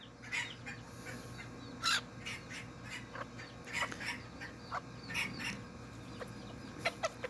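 A rooster kept in a coop with hens gives soft, scattered clucks and short calls, fairly faint and close, with light rustling between them.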